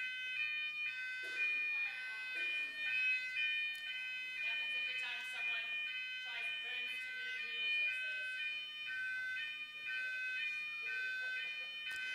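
A building fire alarm sounds during a blockchain talk session, a loud steady electronic tone pattern repeating throughout, with people speaking over it and chattering in the room.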